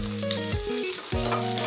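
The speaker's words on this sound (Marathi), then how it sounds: "कांदा छान लालसर रंग होईपर्यंत आपण हा परतवून घेऊया" Chopped onion frying in oil in a kadhai for Marathi misal, giving a steady, close, continuous sizzle with no voices.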